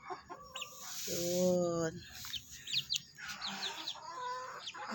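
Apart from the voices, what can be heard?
chickens clucking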